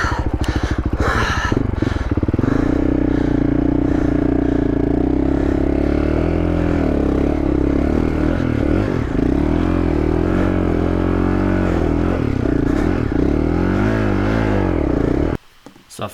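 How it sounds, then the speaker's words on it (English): A dirt motorcycle's engine revs hard and steadily as its rear wheel spins on a steep, rocky hill, a loud sustained drone with wavering pitch and gravel clatter, close by, cutting off abruptly near the end. "So I'm giving it some gas and gently letting out on the clutch, but it's just spinning."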